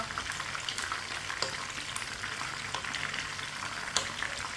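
Pre-cooked chicken frying on one side in a pan, a close, steady, crackling sizzle like light rain with occasional louder spits and pops; nobody speaks.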